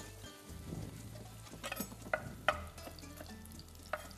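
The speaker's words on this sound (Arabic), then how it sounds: "لأنه رح نقليهم. أنا رح نقليهم." Chopped peppers and onion fry in a pan, a soft sizzle under stirring, with a few light scraping clicks from a utensil against the pan.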